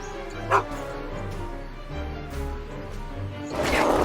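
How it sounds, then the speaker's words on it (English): A dog barks and yips in the Back to the Future adventure game, with several short barks over game music and sound effects. "Go away, dog."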